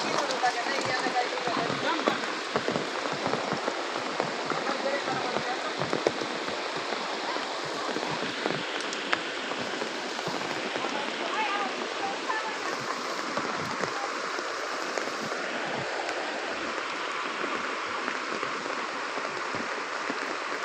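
Heavy downpour in Kakdi village, Mahuva, a dense continuous roar of rain pouring steadily throughout, with water running like a stream and voices faintly talking underneath.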